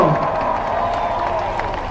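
A large crowd at an outdoor political rally for Pita Limjaroenrat and Move Forward MPs meeting supporters claps and cheers. The noise is a constant roar with raised voices mixed through it.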